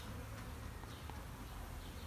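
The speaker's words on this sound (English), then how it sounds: "These are all worker bees" A steady, dense buzzing of many worker honeybees fills the air at a beehive, close and continuous, with no voices.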